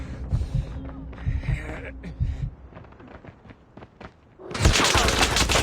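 Gunfire in the mobile shooter game Call of Duty Mobile, with a rapid run of close thumping shots, a quieter stretch, and then a loud burst of noisy firing at the end.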